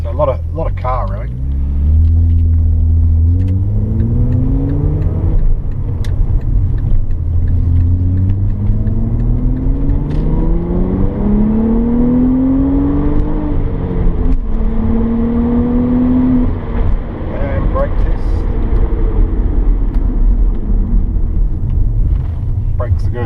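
A 2001 Audi B5 RS4 BiTurbo Avant on a test drive: loud, continuous engine drone rising and falling through gears, with rumbling road noise throughout and a person talking over it.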